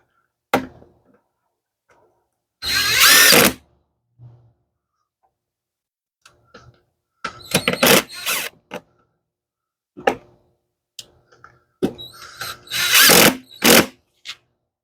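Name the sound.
power tool tightening 10 millimeter nut on Dodge Dart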